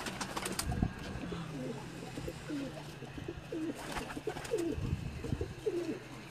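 Pigeons coo softly in repeated low, rolling calls against a quiet outdoor background, with a few sharper knocks and rustles nearby.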